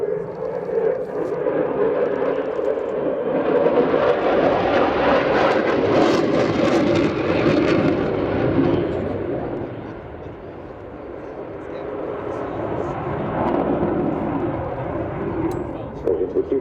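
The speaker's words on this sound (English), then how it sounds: "Aircraft varying speed at the moment between 200 and 350 knots" A Finnish Air Force F/A-18C Hornet jet flies a display at the RIAT 2025 airshow, its loud broad engine roar swelling and fading as it passes, with a commentator talking throughout.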